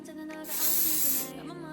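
Hairspray hisses onto hair in one brief, bright aerosol burst, close and fairly loud, rising and cutting off after about a second.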